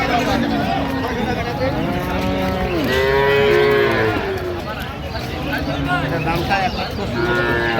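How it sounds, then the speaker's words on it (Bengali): Several dairy cows moo loudly and repeatedly at a cattle market, long drawn-out calls overlapping amid a busy crowd murmur close by. "দেখছিলাম এখানে গাভী বাছুর"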